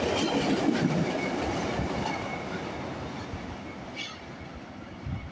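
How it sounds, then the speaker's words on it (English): A VIA Rail passenger train led by engine 912 and pulling five coaches rolls past. It makes a steady rumble with rhythmic wheel clatter and a faint wheel squeal, fading slightly toward the end. No one speaks. "We got Via engine, 912 today. 1, 2, 3, 4, 5 coaches."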